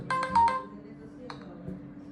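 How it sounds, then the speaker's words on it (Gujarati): A cricket booking app notification chimes on a mobile phone in a short burst of bright, repeated tones, followed by a fainter second blip. "અને આ રિક્વેસ્ટનું સાઉન્ડ નોટિફિકેશન"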